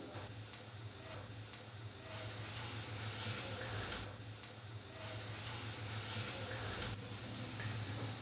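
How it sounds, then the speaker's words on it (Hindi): Chopped garlic frying with onions in a pan, giving a steady, close sizzle with faint stirring scrapes and small swells in intensity, and no talk over it. "लहसुन को हमने हल्का सा रोस्ट कर लिया है।"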